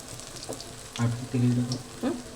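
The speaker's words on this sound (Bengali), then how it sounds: "আর তেলটা সব জায়গায় একটু ছড়িয়ে দিই বড়ার নিচটা তেল গেলে তারা উঠে যাবে ভালো" Raw banana fritters sizzle in a pan of oil with soft crackling and a couple of brief louder bursts, heard up close with no voices.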